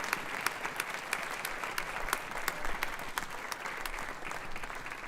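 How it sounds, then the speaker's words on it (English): Steady audience applause at a benefit concert as a man comes up on stage to receive something, crisp individual claps within a dense, sustained crowd sound. "everyone give him a round of applause as he is coming up to receive this"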